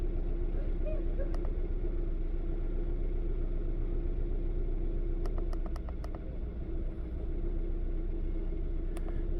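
A car engine runs steadily at a low, even rumble after a cylinder 4 misfire, with no stumbles, plus a few faint clicks over the hum.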